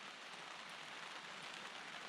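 Steady rain patters on a tent porch overhead and the ground around it in a continuous soft hiss, faint and even with no talk.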